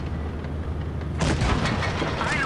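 A high-explosive tank shell bursts against a tank's rear in a combat video game, with a sudden loud booming impact about midway through that rises out of a low engine rumble and trails into noisy debris.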